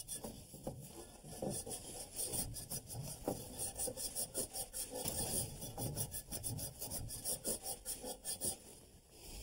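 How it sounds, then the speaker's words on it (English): Steady rhythmic rasping as emery cloth is rubbed back and forth on a metal pipe, close up and continuous, with no talking. "Now, I like to clean the pipe before I cut it. It's a little bit easier. I'm using this emery cloth."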